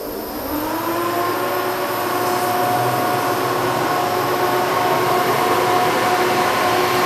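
An xTool laser cutter works through plywood with its fans running, producing a loud, steady whooshing rush of air with faint whining tones underneath, continuous for the whole stretch.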